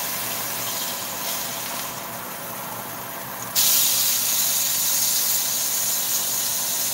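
The fat side of Sauerbraten beef sears in a hot pan as a broad sizzling hiss runs continuously, jumping noticeably louder about halfway through.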